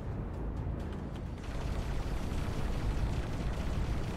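A torpedo launches and detonates in the space game X4: Split Vendetta, a dense, roaring rumble that builds steadily and stays loud throughout with no voice over it.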